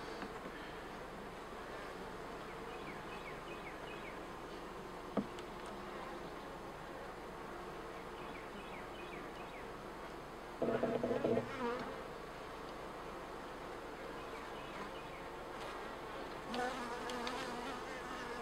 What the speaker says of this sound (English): so that's where the bees are